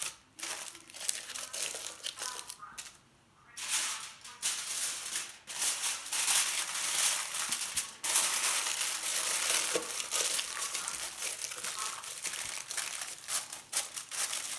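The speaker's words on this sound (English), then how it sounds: "covering the hot steaming soil with aluminum paper to keep the heat inside the soil" Aluminum foil crinkles and crumples loudly and almost continuously as it is pressed over hot, steaming soil mix for indoor herbs, with a short pause before the rustling resumes close up.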